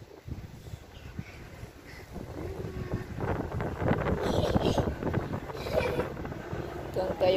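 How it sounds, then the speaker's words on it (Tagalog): Outdoors in Spain, a gusty wind blows and builds in strength, rushing and rumbling across the microphone while someone talks. "Medyo mahangin."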